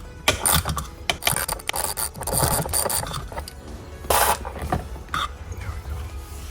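A Porsche Boxster 987.1 parking brake lever is lowered by hand, giving close ratcheting clicks and mechanical rubbing with a few sharper knocks, no talk over it.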